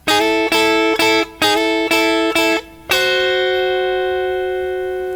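Electric guitar plays a repeated bright chord stab several times in a steady rhythm in a blues lick in A, then a final clashing chord rings out and slowly fades.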